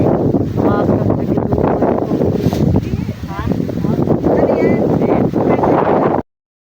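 Strong wind at a campsite buffets the microphone in a loud, continuous roar, with a voice talking over it throughout.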